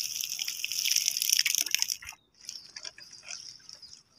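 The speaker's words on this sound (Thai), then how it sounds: "รดไปแบบนี้เลยนะคะรดให้เปียกไปเลยค่ะ" Chili plants are soaked with a homemade fermented ripe-banana liquid, a steady splashing, trickling pour of water onto soil and leaves that briefly stops, then resumes, close and fairly loud with no talking.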